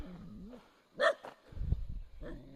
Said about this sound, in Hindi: ये सामने पहाड़ के कुत्ते हैं